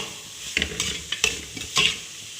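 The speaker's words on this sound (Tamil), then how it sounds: "ஒரு நிமிஷம் கொஞ்சம் கிண்டி விடணும்" Masala spices fry in hot oil for a chapati kurma while a spoon stirs the pan in several quick scraping strokes over a soft, steady sizzle, close and clear.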